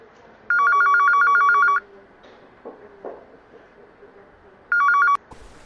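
A small telephone rings in two bursts of rapid electronic trills, a long ring followed by a shorter one after a pause, loud and close with faint shuffling between rings.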